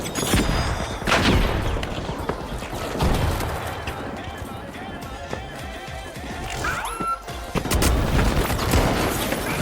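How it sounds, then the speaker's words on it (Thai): Explosions and gunfire from the video game The Finals, with loud broadband booms around the start, near the three-second mark and again late, amid continuous battle noise and clatter. "โหระเบิด"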